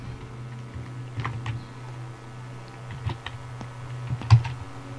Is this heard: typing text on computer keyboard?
yes